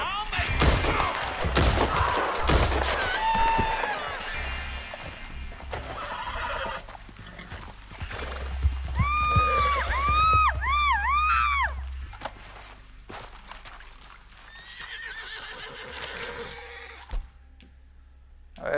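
Horse neighing and whinnying repeatedly amid hooves clopping in Red Dead Redemption 2, with gunfire bursts early on and voices talking; the loud whinnies rise in a cluster midway.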